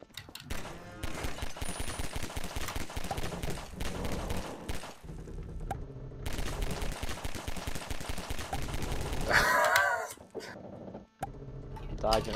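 Rapid gunfire bursts in the video game Devious Licks, loud and dense for most of the stretch with brief gaps, layered with game music and effects.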